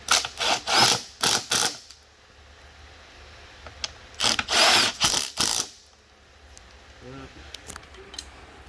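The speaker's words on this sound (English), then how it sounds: "And tighten your Phillips heads." Phillips head screws being tightened on a Leander table with drops, heard as loud rapid ratcheting bursts in two clusters separated by a quiet pause, with a few faint clicks after.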